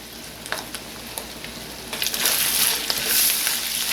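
Minced meat sautés in a pan with a close, steady sizzle, broken by a few stirring scrapes early on, then swelling into a louder, brighter crackle.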